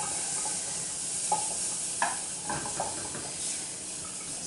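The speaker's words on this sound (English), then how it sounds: "So we're gonna put some butter in here." Butter sizzles and crackles steadily in a hot pot, with a few light scraping and stirring clinks close by.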